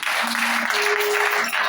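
Church conference audience in Gabon applauding and cheering for the Lord, a dense steady wash of clapping and voices throughout, with a faint sustained tone running beneath.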